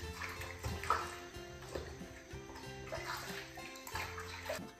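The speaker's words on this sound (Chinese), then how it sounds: "再把牛肉洗一下。" Water runs steadily from a kitchen tap as beef is rinsed by hand for a home-cooked meal, a continuous splashing wash with small surges and clatter, close and moderately loud, with no talking.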